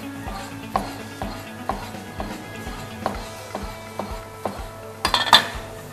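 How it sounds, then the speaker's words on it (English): Tomato slices are cut on a plate in a kitchen while making creamy chicken mushroom soup, giving a steady series of light knife-on-plate taps and clinks, with a brief cluster of sharper clatter near the end. "We shall have to start cutting with the tomato slices"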